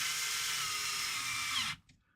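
A cordless Bosch power driver running, a steady high-pitched whirring motor at close range that cuts off abruptly near the end, leaving near silence.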